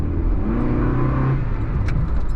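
A small Honda Logo car engine hums steadily and pulls harder as it accelerates, close and continuous, with a faint jangle near the end.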